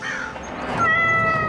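A small kitten meows loudly and close, a single drawn-out cry that rises and holds in pitch, with no talk over it.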